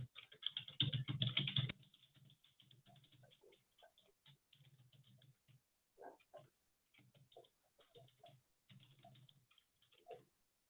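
Quick, light keystrokes patter on a computer keyboard while a message is typed, opening with a dense flurry, then continuing in short, irregular bursts, close and fairly quiet.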